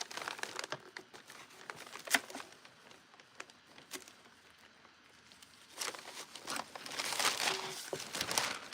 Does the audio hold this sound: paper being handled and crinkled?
yes